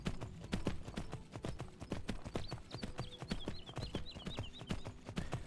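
In the video game Skyblivion, horse hooves clip-clop in a steady, even rhythm throughout, loud and close. A light bird-like trill runs faintly in the background.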